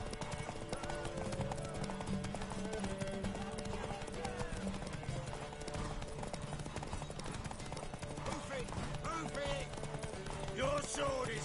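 Horse hooves clip-clop at a steady gait in the video game The Witcher 3 on PS4, with music and game dialogue playing over the footfalls throughout.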